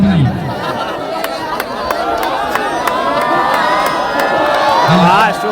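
Dense crowd noise at a cricket tournament in Allahabad, with continuous chatter, cheering and whoops from many people blending into a steady, loud roar throughout, a few shouts standing out near the start and end.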